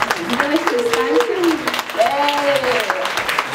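Applause for the backstage assistant girls at a master class, clapping running underneath a voice speaking over it at close range.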